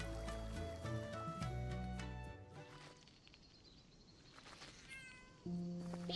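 A cat meows inside the video game Tales of Seikyu, clear repeated mews set against tonal game music and a soft flowing-water ambience, with no talking.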